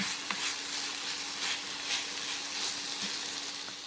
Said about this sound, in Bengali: লঙ্কা দেওয়ার পর নেড়ে চেড়ে নিচ্ছি আবার একটু